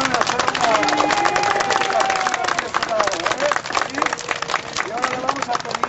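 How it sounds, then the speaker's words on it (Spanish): A crowd applauds friends visiting from Vancouver at a ribbon-cutting gathering, with dense, continuous clapping mixed with crowd babble and a few voices talking over it throughout. "vamos a darles un aplauso a nuestros amigos de Vancouver que nos vinieron a hacer una"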